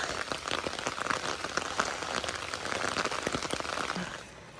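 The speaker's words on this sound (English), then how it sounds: "It's raining pretty good now." Steady rain patters on a hard surface at Grand Gulf State Park in Thayer, Missouri, a dense hiss of drops that fades slightly toward the end.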